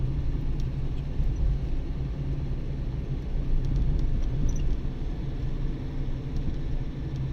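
A car engine drones in a low, steady rumble while climbing a hill during a driving test on the Çeşme–Dalyan road, heard without speech at a moderate, unchanging level.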